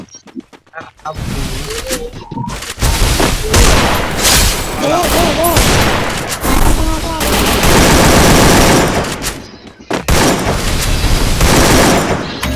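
Rapid automatic gunfire in a shooter video game rattles in loud, dense bursts almost without a break, with game effects and excited player voices mixed in.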